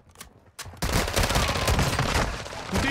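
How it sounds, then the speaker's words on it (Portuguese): A couple of sharp gunshots, then a sustained burst of rapid gunfire roars loudly and continuously, from video game combat in DMZ mode. "Um tiro, um tiro, um tiro na sua direita!"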